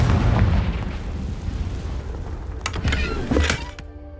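A Confringo spell blast in Hogwarts Legacy, with rumbling booms and sharp bursts that crackle and fade out toward the end, loud and close.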